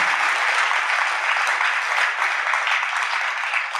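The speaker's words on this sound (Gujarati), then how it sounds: "જરા તાળીથી વધાવો તો ખરા." An audience at a Swaminarayan religious discourse breaks into steady applause, dense continuous clapping that holds at an even loudness throughout with no talk over it.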